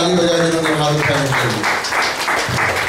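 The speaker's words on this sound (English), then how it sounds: "Let's give those a hand and uh, applause." A congregation at a Sunday evening church service claps together, a dense, steady wash of applause filling the room, with a voice speaking over the top of it.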